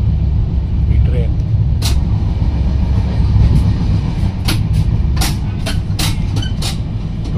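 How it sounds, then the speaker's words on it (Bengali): A train running through open fields, a continuous loud rumble and rattle of wheels and carriages with sharp clicks and clanks scattered across the run, and a voice talking under the noise. "তার মাঝখান থেকে ছুটে চলেছে এই ট্রেন"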